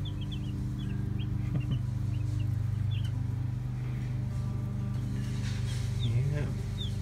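Cornish Cross broiler chicks peep in a brooder, with repeated high, short chirps scattered over a steady low hum, and a voice briefly in the background.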